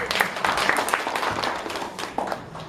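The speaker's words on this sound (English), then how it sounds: "Clap." An audience at a Toastmasters club session claps for a couple of seconds, a dense, even patter of many hands filling the room, with no voices over it.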